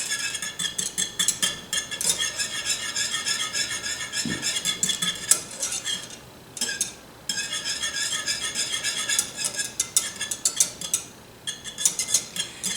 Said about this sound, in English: Now we're just going to stir it. It's on low heat, and we're going to stir it until the gelatin is dissolved